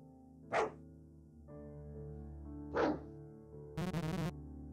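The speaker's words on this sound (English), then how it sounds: "That dog seems pretty dangerous" A dog in a video game barks twice, two sharp separate barks a couple of seconds apart over a steady droning game soundtrack, followed by a short buzzy burst.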